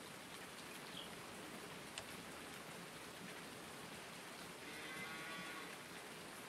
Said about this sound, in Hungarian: Na, és pont esik az eső.